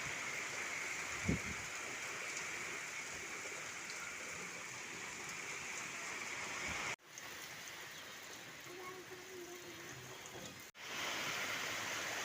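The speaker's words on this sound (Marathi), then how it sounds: "काय पाऊस भयानक वाढलेला आहे इथं" Heavy rain pours down in an even, hissing wash that stays faint and steady throughout, broken only by two brief dropouts.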